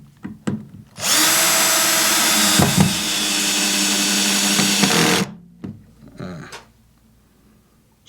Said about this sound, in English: Each screw goes down into the wood, just to show you what it does.